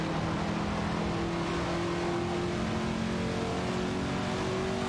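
In a video game race, a 1968 Pontiac Bonneville and a 1973 Holden Monroe GTS roar along with engines droning continuously. The engine note is steady and fairly loud, with no talking over it.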